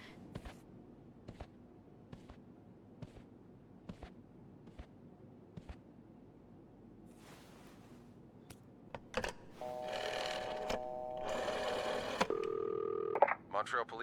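Telephone at a front desk being dialed, a series of sharp evenly spaced clicks followed by a loud burst of electronic tones and a ringing line.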